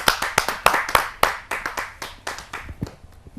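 An audience at a kavi sammelan poetry gathering claps to welcome the poet Neha Deshwal, with sharp, fairly quick claps from a modest crowd that thin out toward the end, close and loud without talk.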